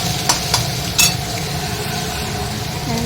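Chow mein stir-frying with egg in a pan, a low steady sizzle with a few sharp scraping clinks of the spatula near the start; no talking.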